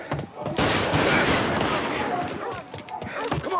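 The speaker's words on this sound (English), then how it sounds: "He's shooting!" Gunfire in the Mafia video game, a dense burst of shots crackling over a loud, busy mix while a voice shouts nearby.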